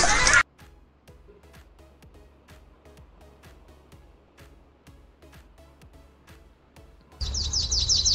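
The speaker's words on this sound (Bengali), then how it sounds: "ময়না পাখি বলে কথা।" Short repeated chirping bird calls of a myna, evenly spaced sharp tweets over a quiet background, framed by louder bursts at the start and end.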